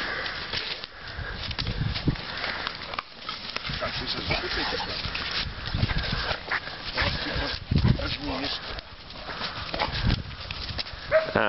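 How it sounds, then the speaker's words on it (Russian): Two dogs play together, giving steady growls, whines and grunting noises up close throughout, with a person talking over them at times. "разыгрались, скажи, собаки"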